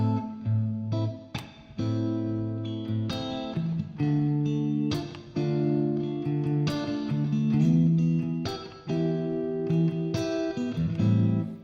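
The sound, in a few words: guitar playing minor chord progression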